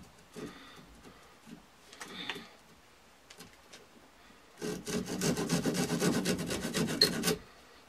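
Knife or saw cutting a wooden stick for a deadfall snare, a few faint scrapes first, then about three seconds of loud, rapid rhythmic rasping strokes close by that stop abruptly.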